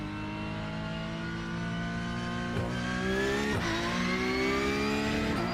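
A Porsche race car engine in a video game revs loudly and steadily, pitch climbing through gear changes with brief dips, filling the whole stretch with no voices.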